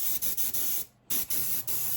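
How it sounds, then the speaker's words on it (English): Matte clear coat is sprayed from a can onto sneaker midsoles, a close, loud, steady hiss in several short bursts with one clear pause. "I'm just slightly gonna just spray some coats on."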